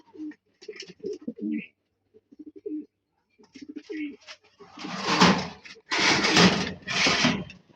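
Racing pigeons coo close by in soft, throaty bursts, rising to louder, fuller cooing toward the end, with a few light rustles and clatters around them.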